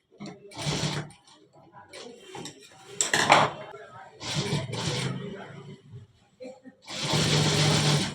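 Sewing machine stitching a shirt cuff, several bursts of rapid whirring and clattering separated by pauses, fairly close and moderate in level, with quieter handling noises between runs.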